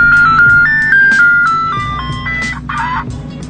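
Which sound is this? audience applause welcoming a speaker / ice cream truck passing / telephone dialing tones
ice cream truck passing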